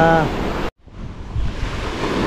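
Ocean surf at high tide along Baybay Norte beach in Sual, Pangasinan, a steady loud rush of breaking waves with gusty wind on the microphone, broken by a brief dropout before the roar resumes.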